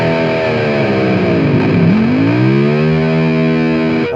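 Distorted Firefly FFVX electric guitar, a budget Dime-style model, playing a sustained chord as the tremolo bar dives the pitch down and then lets it rise and settle again, loud and steady for about four seconds with no talking.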